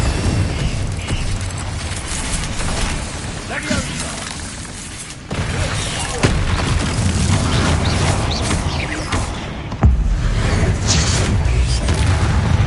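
Confringo fire spell blasts traded with other spells during a Hogwarts Legacy combat against spiders, a dense, loud barrage of booms, shattering bursts and crackling impacts, with sharp hits marking each cast amid continuous combat noise.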